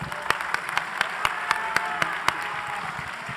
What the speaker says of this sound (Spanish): Venga, aplauso para él.